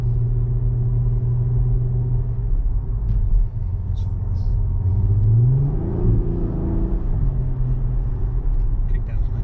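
A 2010 VW Passat R36 with DSG gearbox and H&R lowering springs accelerates on kickdown, its engine rumble swelling and rising steadily from inside the cabin while people talk over it.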